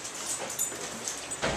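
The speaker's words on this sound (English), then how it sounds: "There's Callie, the wonder puppy." A puppy whimpers faintly in a flood-damaged home, a few thin whines rising over quiet room noise.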